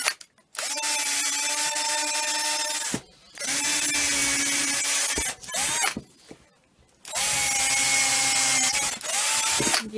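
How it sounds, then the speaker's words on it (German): Cordless drill boring pre-drilled holes into tree branches, three long whirring bursts with brief pauses and short motor blips between, close and loud with no talking. "Erst Löcher anbohren, ich ziehe das jetzt, und dann lange Schrauben rein"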